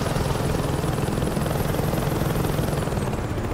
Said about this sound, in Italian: L'elicottero da dove arriva a sto giro?